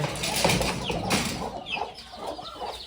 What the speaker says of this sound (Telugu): ఇప్పుడు పది కోళ్ళు పొదిగేస్తున్నాము